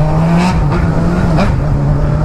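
Honda Hornet motorcycle engine heard up close, running with a steady low drone and small rises in pitch as the throttle is blipped, loud and continuous with no voices.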